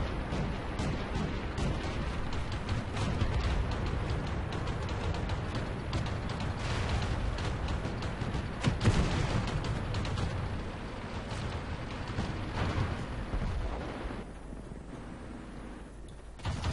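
Tank cannon fire and shell hits from a World of Tanks battle, a dense rumbling mix of heavy booms and impacts, with one sharp blast standing out midway before the din thins.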